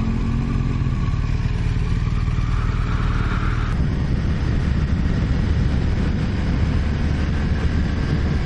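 A small KTM motorcycle passes on highway 149 north, a loud continuous engine drone and road roar filling the whole stretch, with the pitch shifting partway through and no voices.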